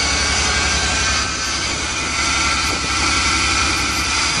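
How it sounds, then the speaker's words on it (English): A 1992 Voyager van engine runs steadily at idle, a loud continuous drone with a faint high alternator whine running through it and no talking. "the alternator has a bit of a whine, but it's running pretty good"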